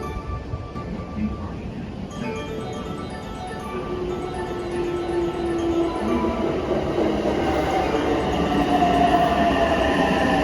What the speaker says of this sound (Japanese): 2番乗り場に列車が参ります。